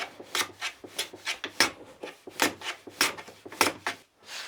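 Steady back-and-forth strokes of a hand plane shaving wood on a wooden shooting board, close and crisp, with roughly a dozen rhythmic swishing cuts and brief pauses between them and no voices.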